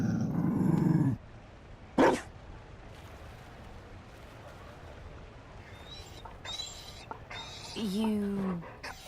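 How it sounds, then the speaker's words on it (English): A Mabari war dog in Dragon Age Inquisition growls with a low, loud rumble, then lets out a sharp bark; quieter game sounds and voice-like tones follow. "You found a dog?"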